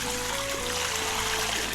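Water poured out of a bucket in an Unreal Engine game, a steady trickling stream that runs alone and fairly loud for under two seconds, with a faint constant tone underneath.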